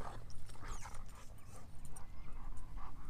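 A huge pitbull and a long-furred German Shepherd play fighting up close, with rapid panting, snuffling and small whimpering yips in a continuous scuffling rhythm.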